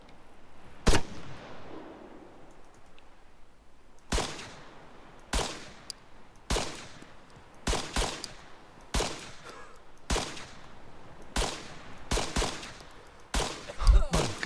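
Pistol shots in Arma 3 fire one at a time, about a dozen sharp, loud cracks at an uneven pace with short quiet gaps, some coming in quick pairs.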